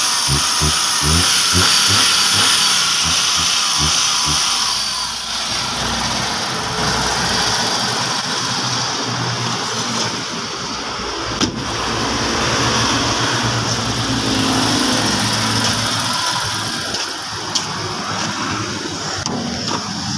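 A Hyundai Eon car engine idles steadily while warming up, a continuous mid-pitched hum with vibration running throughout, with no one speaking.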